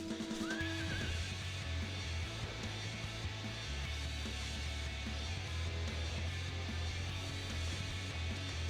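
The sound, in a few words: horse mount neighing in Final Fantasy XIV video game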